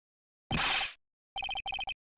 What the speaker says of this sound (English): Is that your phone? That was my phone.